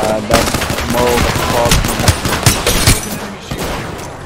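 Loud, close bursts of automatic gunfire with sharp individual shots and rattling volleys, continuing steadily for several seconds amid a noisy firefight.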